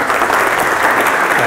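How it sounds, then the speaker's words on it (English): A lecture-hall audience at a business school lecture series applauds to welcome a guest speaker: dense, steady clapping from many hands, loud and close, filling the whole stretch without a break. "Please join me, this is applause time"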